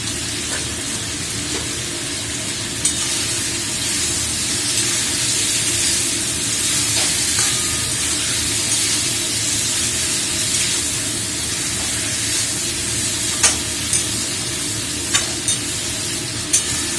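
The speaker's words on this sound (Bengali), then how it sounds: "তো মাংসটা আমার ভালো করে কষানো হয়ে গেছে।" Boiled mutton sizzles and fries in a pan as it is stir-fried, a constant loud hiss with occasional sharp pops and spatters, no voices.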